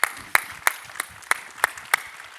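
A small audience at a talk gives a few sharp, evenly spaced claps, faint and sparse, like a handful of people clapping in rhythm for about two seconds.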